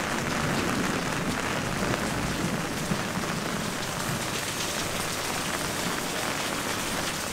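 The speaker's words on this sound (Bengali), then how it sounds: "বৃষ্টি পড়ছে বিভৎস লেভেলের" Heavy rain pours at night on the road from Shillong to Cherrapunji in Meghalaya, a loud, dense, unbroken hiss filling the whole stretch with no voices.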